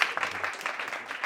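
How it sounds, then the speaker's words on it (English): Brief burst of audience applause for a speaker at a business talk, several uneven claps in a small room. "Can we have another round of applause"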